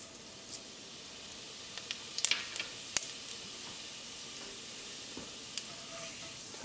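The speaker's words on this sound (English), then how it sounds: "As the oil start to heat up, add cumin." Cumin seeds sizzling in a tablespoon of olive oil heating in a pot, a faint steady crackle with a few sharp pops scattered through, no voices.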